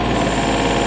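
Electric motor running steadily, a close continuous hum with rapid even vibration throughout.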